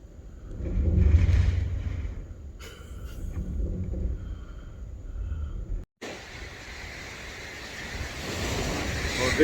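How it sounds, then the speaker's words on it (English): Strong Mistral wind in southern Spain roars and buffets the microphone in gusts, with a sudden dropout midway and rushing air continuing after. "Some Mistral winds this morning."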